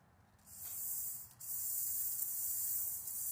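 A close aerosol lubricant spray hisses into a lawn mower engine control cable in two bursts, a short break between them, then a longer steady spray.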